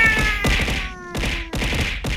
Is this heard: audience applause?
no